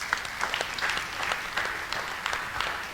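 An audience applauding after a business talk, a dense steady wash of many hands clapping at moderate distance, sustained throughout without a break.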